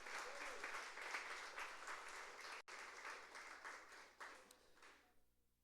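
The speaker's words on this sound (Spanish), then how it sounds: "démosle palmas al Señor" A church congregation applauding together in a steady, quiet wave of clapping that carries on for several seconds before trailing off into near silence.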